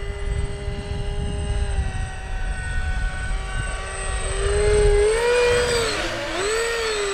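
RC model V-22 Osprey aircraft in flight with a steady high electric whine and whirring lift fan, its pitch wavering and sweeping up and down as the throttle changes, fairly loud and close, with no voices.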